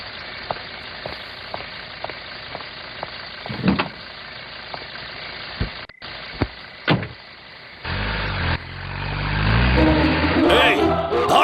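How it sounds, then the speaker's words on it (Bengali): A car engine idles steadily after starting in a dubbed action movie scene, a low rumble under a man's brief speech, with door thuds and then a rising rev toward the end. "গাড়ি স্টার্ট হয়ে গেছে ম্যাডাম।"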